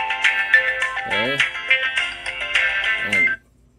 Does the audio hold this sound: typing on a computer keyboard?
no